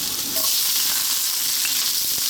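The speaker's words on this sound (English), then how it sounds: "Super high heat. As you can see, we're browning and blackening the ginger already and the garlic" Onion hitting very hot oil with garlic and ginger over super high heat, a loud, dense, steady sizzle heard up close with no talking.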